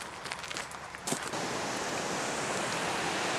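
Loud, steady rush of a river flowing through Fairy Glen in North Wales, a dense continuous roar of water from close by, with a few brief knocks early on.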